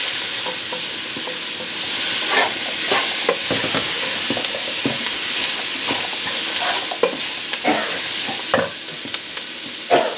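Vegetables for a gluten-free gumbo hiss and sizzle steadily in hot oil, close and loud, with intermittent stirring scrapes through the frying.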